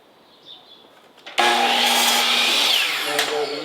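A power saw cuts wooden ties for a miniature railroad, starting abruptly and whining loudly and close as it bites through the wood, after a quiet stretch of faint handling.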